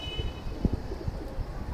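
A large female Chandakhani pigeon gives soft, low, throaty coos close by, with faint rustling from handling.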